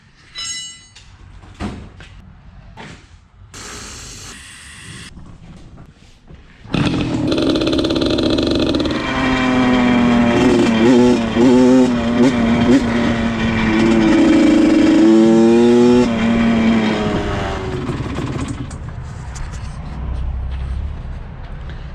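A small 85cc KTM dirt bike engine idles, then revs up loudly with a buzzing, fluctuating whine that rises and falls before settling back down.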